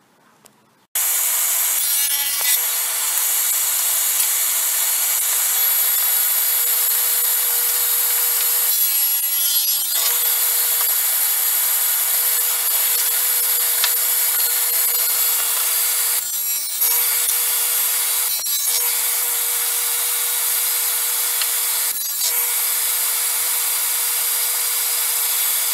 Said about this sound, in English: So now I'm going to cut my 4 backs and my 4 bottoms.